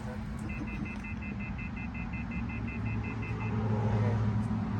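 Inside a car, a warning chime reminds the driver not to leave a Bluetooth device behind: a rapid, steady run of bright, evenly spaced beeps lasting about three seconds over a constant low rumble of the cabin and engine.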